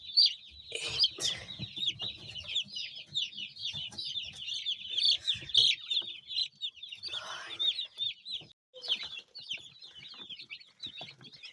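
Broiler chicks in a brooder peep in a busy, high-pitched chorus of many overlapping chirps, fairly close and moderately loud, with a few soft bumps and shuffles around them and a brief lull near the end.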